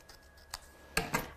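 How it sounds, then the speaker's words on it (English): Scissors snipping through paper while a mini album is made, a few short, close snips with gaps between them over a quiet room. "So again, just gonna cut with my scissors."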